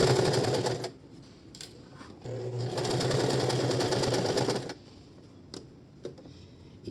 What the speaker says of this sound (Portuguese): E eu estou costurando bem devagar.